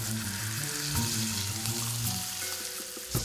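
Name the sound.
beef strip loin searing in oil in a hot frying pan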